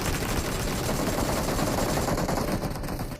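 Sustained automatic gunfire from PUBG Mobile, a dense, loud, continuous burst of rapid shots filling the whole moment with no pauses, heard alone without talk.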